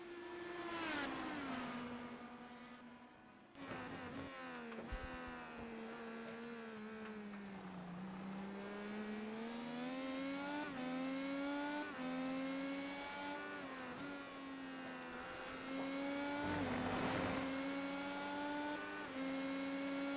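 An onboard IndyCar race car engine at Zandvoort in iRacing screams continuously, pitch climbing and dropping through gear changes and corners, with brief downshift blips and a loud, close, sustained whine throughout.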